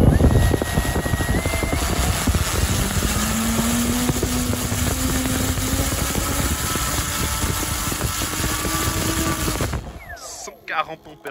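A Swift Kawazaki RC model plane from Flight-Composites with its electric motor on a 2S pack, held at full throttle: a loud, steady, high whining roar for nearly ten seconds that cuts off abruptly, leaving quieter rustling.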